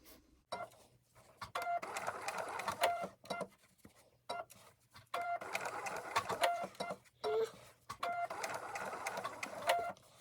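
A sewing machine stitches washable cloth wipes in three long runs of rapid, steady whirring, with short quiet pauses between them. The machine is heard up close.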